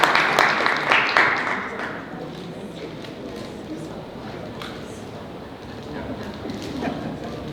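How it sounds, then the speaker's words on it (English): Audience applauding as speakers are welcomed to the stage, a short burst of clapping in the first two seconds that quickly thins to scattered claps and room noise. "So I'll get you to give them a round of applause and welcome to the stage."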